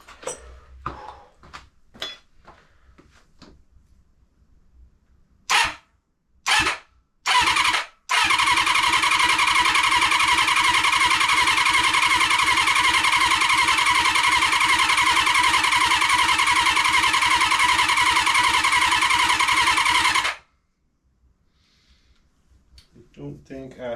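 A Kawasaki KZ400J motorcycle engine, freshly rebuilt for a budget cafe racer, coughs through a few short cranking bursts, then catches and runs loud and steady for about twelve seconds before cutting off abruptly into quiet.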